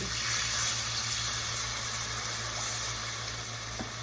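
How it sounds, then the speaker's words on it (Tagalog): Water running steadily into a pan of adobong kangkong seasoned with oyster sauce and soy sauce, a continuous close hiss and splash lasting the whole moment with no talking. "Lagyan natin ng konting tubig."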